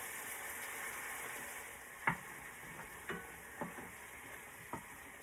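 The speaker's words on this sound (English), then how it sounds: "I'm just going to move these short ribs around rather gently and scrape up all these little black pieces" Short ribs in beef broth sizzle steadily in a hot pan while a utensil gently moves and scrapes the bottom, giving four or five soft knocks over the constant frying hiss.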